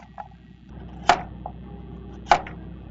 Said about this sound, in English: While Pat finishes chopping this apple